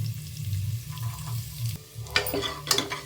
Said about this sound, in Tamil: அந்த பெரிய வெங்காயத்தை போட்டு நல்லா வதக்கி விட்டுடலாம்